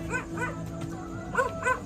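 A dog yips in short, sharp barks, two quick ones followed after a pause by two more, close and fairly loud over a faint hum.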